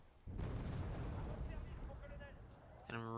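Heavy artillery fire in a 2v2 real-time strategy battle on the Highway map: a sustained rumbling barrage of booms, loud and dense, with a sharp burst near the end.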